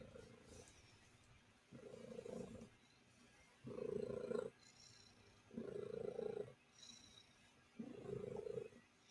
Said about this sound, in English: I hear that cat purr is healing, so yeah, have some healing vibes